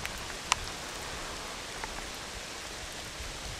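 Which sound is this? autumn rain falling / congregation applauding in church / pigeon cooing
autumn rain falling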